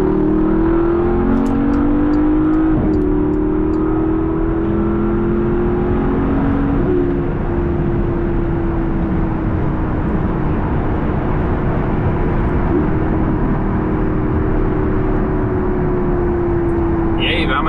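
A Porsche Panamera GTS Sport Turismo V8 engine drones steadily at speed on the autobahn, a loud sustained tone that climbs slightly and shifts through gears, with road and wind roar underneath and no talk.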